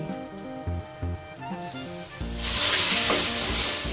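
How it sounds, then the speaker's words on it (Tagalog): Loud, steady sizzling of pork belly frying in its own fat over high heat swells up after a couple of seconds and holds, following some low thumps and stirring. "patuloy pa itong lutuin hanggang sa magmantika ng liempo ng baboy"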